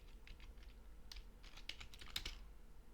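Close, quiet typing on a computer keyboard while code is written, with scattered clicks that grow into a faster burst of keystrokes toward the end.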